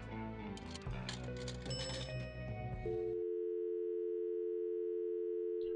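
A payphone tone in the point-and-click game Thimbleweed Park: several steady beeping tones play first, then a long, loud, unbroken dial-like hum holds alone until the end.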